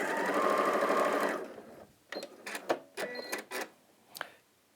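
A sewing machine threaded with no bobbin runs in a steady, fast buzzing stitch for about a second, then stops and gives several short, sharp mechanical bursts and clicks, fairly close and alone.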